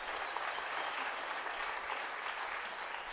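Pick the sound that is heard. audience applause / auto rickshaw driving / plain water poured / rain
audience applause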